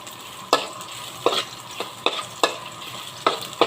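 Vegetables and spices are stirred through a pan with coconut milk, a spatula scraping in six or seven evenly spaced strokes over a low simmering sizzle, close and without talk.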